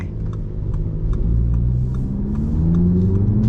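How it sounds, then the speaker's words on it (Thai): A 2021 Audi TT 45 TFSI Quattro S-Line pulls hard at full throttle in normal mode, a steady loud engine drone rising in pitch as it accelerates, heard from inside the car. "นี่เหยียบเต็มร้อย"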